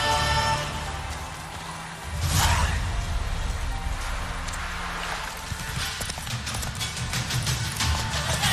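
Roach the horse gallops in The Witcher 3, hooves pounding in a steady rapid clip-clop that swells louder partway through, with a whooshing rush of movement over the rhythm.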